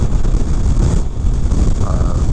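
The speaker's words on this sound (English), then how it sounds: "Whew, it's windy." Wind buffeting an outdoor microphone, a steady loud low roar and rumble with gusty fluctuations throughout, no other sounds standing out.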